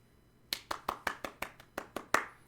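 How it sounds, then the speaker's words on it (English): One person claps alone, about nine crisp, evenly spaced hand claps in a quiet room, close and fairly soft, ending with one slightly louder clap. "gave myself a clap"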